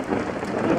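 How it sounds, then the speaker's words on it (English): Heavy rain and wind from Typhoon Odette at night in Negros Oriental make a dense, steady roar, close and moderately loud for under a second. "We're gonna watch out for the storm."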